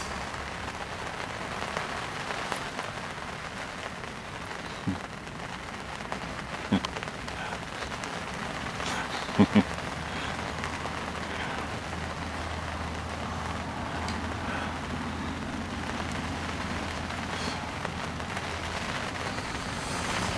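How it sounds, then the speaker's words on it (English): Steady rain falling on a surface during a wintery spring fishing session, a soft continuous patter with a few sharper taps and knocks now and then. "now raining"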